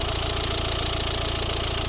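A 2012 Volvo S60 with the 1.6 D2 diesel, a Peugeot Citroën eight-valve single-camshaft engine rated 114 hp and paired with a manual gearbox, idles in a steady, even drone, close and alone.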